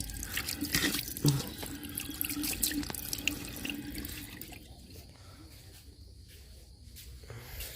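A water tap runs at a campsite wash area as someone rinses their face, giving a steady splashing and trickling into a basin with faint drips, heavier at first and then softer, with a little talk in the background.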